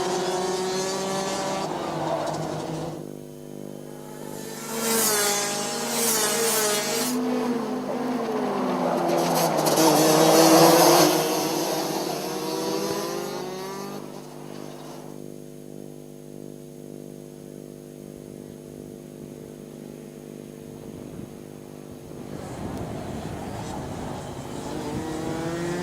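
Rotax DD2 Masters racing karts run on a circuit during a four-kart race, engines droning steadily with rising and falling revs as karts pass, loudest around the middle, with no talk.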